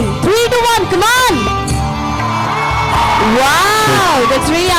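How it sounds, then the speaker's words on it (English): A crowd at a lamp lighting and oath taking ceremony screams and yells loudly and continuously, with whooping voices rising and falling over the sustained roar. "Now you can scream."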